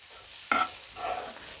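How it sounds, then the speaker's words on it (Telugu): Grated coconut is stirred while roasting in a pan, with a sharp scraping stroke followed by a softer dry rustle and faint sizzle. "ఇలా తిప్పుతానే వేయించుకోవాలండి"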